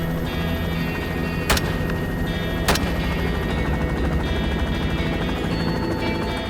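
Gunshots ring out from a helicopter during a Texas hog hunt, two sharp cracks spaced about a second apart over the loud, constant whine and thrum of the helicopter's rotor and engine.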